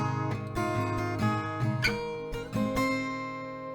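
Guitar strumming the chords of a song, with close, moderately quiet strokes in an uneven rhythm and no voice over it.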